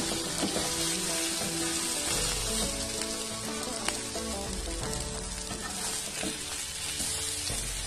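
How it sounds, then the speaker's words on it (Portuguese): Homemade ground beef patties fry in a pan, giving off a steady, dense sizzle and crackle that carries on without a break, close and fairly loud, with no talking. "Aqui já, já estão bem fritinhos, agora a gente já pode tirar."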